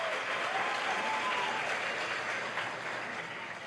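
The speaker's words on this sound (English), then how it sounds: "With a thunderous round of applause for Felipe Neto." An audience at a literary festival panel on facing hate applauds in a dense, steady wash of clapping that holds for several seconds and tapers slightly, heard from within the hall.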